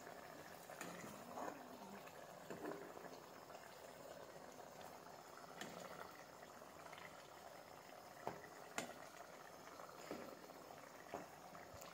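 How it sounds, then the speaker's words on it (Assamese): Fish curry with ginger and garlic leaves simmers in a pot, a soft, steady bubbling with small pops and blips throughout, faint and close, with no voices. "ভালদৰে উতলিবলৈ দিছোঁ"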